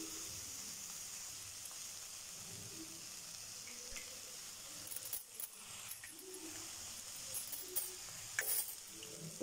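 Two eggs dropped into a pan of cooked broad beans, giving a soft, steady sizzle and frying hiss, with a few light clinks and scrapes toward the end and no talking.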